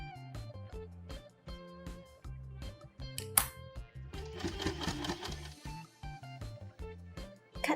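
A sewing machine fitted with a size 16 needle stitches a thick fabric section of a baby turban headband, giving close, rapid mechanical stitching bursts separated by short pauses, with no talk.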